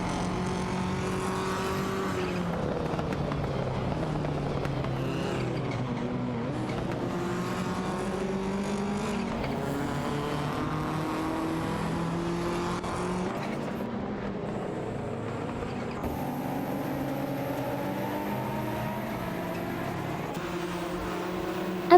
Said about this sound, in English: Racing car dashing away. Every bit helps us keep the engines roaring.